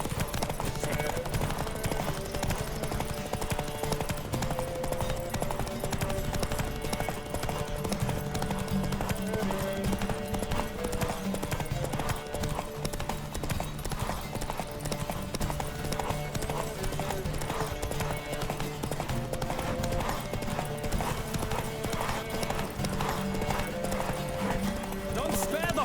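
Galloping horse in The Witcher 3 video game, with rapid, steady clip-clop hoofbeats running throughout over a continuous bed of game music and ambience, and a brief whinny partway through.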